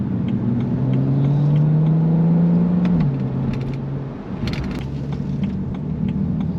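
A BMW 335i E93 LCI convertible's engine drones steadily while driving at a residential speed limit, a smooth low hum that holds pitch, dips slightly as the revs settle, then continues quietly with faint road noise.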